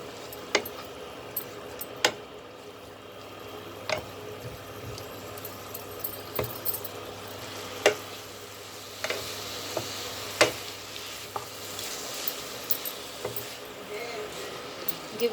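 Noodles made from leftover chapati rotis are stirred in a hot pan, with a soft sizzle under repeated scraping clicks and taps of the utensil at an irregular pace.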